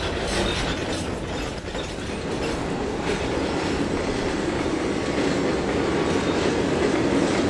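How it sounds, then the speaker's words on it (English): Freight train in Trainz 2022 rolling steadily on rails, a continuous rumbling wheel noise with rhythmic clicking and clacking, close and fairly loud, with no talk. "Good railroad action going on right now."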